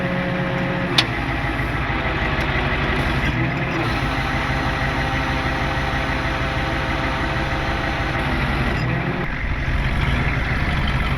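An old tractor engine, without a battery, is cranked over, giving a continuous low mechanical churning and rumble that runs steadily, close by, with brief dips.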